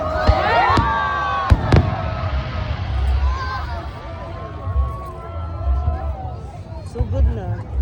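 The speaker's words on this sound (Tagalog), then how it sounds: "So enjoy nyo na lang din mga kataba ang fireworks display." Fireworks pop and crackle through a noisy outdoor crowd at a Canada Day display, with sharp bursts near the start and murmuring voices and cheers throughout.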